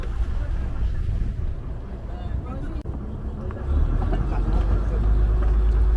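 A motor launch cruises through the Sundarbans, its engine a low, steady rumble under wind buffeting, swelling louder and closer toward the end, with people talking faintly over it.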